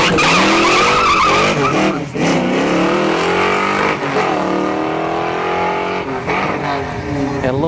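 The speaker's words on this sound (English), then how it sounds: "Had a little bit of a wheel hop there at the launch." A drag race car launches down a dragstrip during a test-and-tune session, with loud engine roar and skidding tire squeal as it hops at the launch, pitch climbing and dipping through repeated gear pulls.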